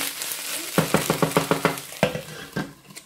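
Spinach sautéing in a pan with a little black pepper, a soft steady sizzle broken by a quick run of rhythmic scraping stirs and a few more utensil strokes against the pan, close and without talk.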